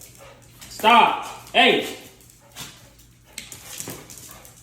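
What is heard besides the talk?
dog whimpering and barking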